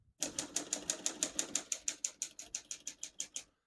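A 1936 Corona Standard Flat Top portable typewriter being typed on, giving a steady run of about eighteen crisp, evenly spaced key strikes, close and clear, with no talking.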